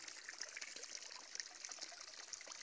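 Water from a hose fed by another well trickles and splashes steadily into a low fish tank during the dry season, a faint continuous wash of fine droplets with no voices.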